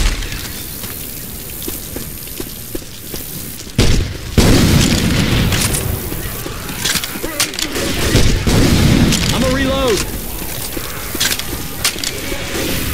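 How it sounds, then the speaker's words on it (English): Grenade launcher blasts go off in Left 4 Dead 2 during the Hard Rain campaign's Milltown stage, with a sharp boom followed by rumbling game noise, background effects and brief voices. "Grenade launcher."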